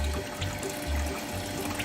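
Water runs steadily through a gold sluice loaded with black sand, a soft continuous trickle and pour with faint gurgling pulses, close by and alone.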